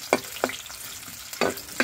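Onions frying in a pan for a pancit and sardine dish cooked outdoors in the mountains, with four short, sharp stirring scrapes against a soft sizzling background.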